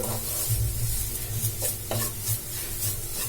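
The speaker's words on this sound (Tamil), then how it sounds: "ஸ்டவ்வை வந்து சிம்மில் வச்சுட்டு இதை வந்து நல்லா மிக்ஸ் பண்ணிக்கலாம்" Grated coconut is stirred in a pan on a stove over low heat, with a steady soft sizzle and repeated scraping strokes of a spoon against the pan, close and alone.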